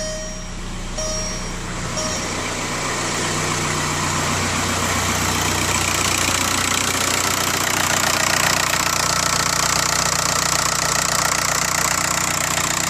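A Volkswagen New Beetle's small diesel engine idles steadily, a constant low rumble with a faint knocking texture that swells slightly after a couple of seconds and then holds.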